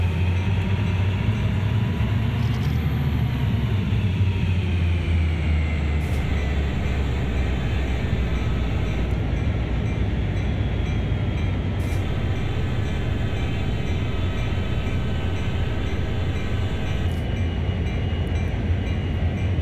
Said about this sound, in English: my horn is just probably overkill, but it said sound the horn, so I did.